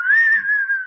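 A person whistles a happy tune during a standup comedy routine: one clear, sustained, slightly wavering melodic whistle, close and loud, with nothing else under it.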